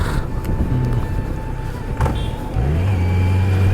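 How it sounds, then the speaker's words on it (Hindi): A Kawasaki Z900 motorcycle idles steadily, then a brief clunk marks the shift from neutral into second gear, and the engine note settles lower and heavier, close and fairly loud with no one talking. "बहुत ज़ोर आवाज़ करता है यार न्यूट्रल के बाद सेकंड गियर करना पे"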